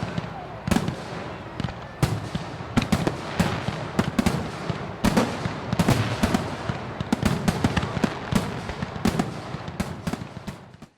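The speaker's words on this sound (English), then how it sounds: "2025 ended, as every year does, with a riot of fireworks coming from all directions" New Year's Eve fireworks in Italy burst in a dense, irregular barrage of sharp cracks and booms from all directions, some near and loud, others distant, continuing without pause.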